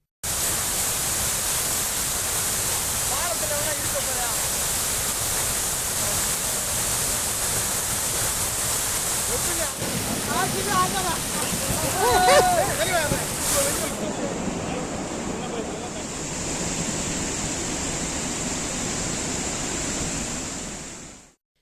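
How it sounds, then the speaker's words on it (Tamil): Meghamalai waterfall in flood after sudden heavy forest rain, a steady loud roaring rush of water that fills the whole scene, with a brief voice partway through. "வனப்பகுதியில் திடீரென பெய்த கனமழையால் மேகமலை அருவியில் வெள்ளப்பெருக்கு ஏற்பட்ட நிலையில்"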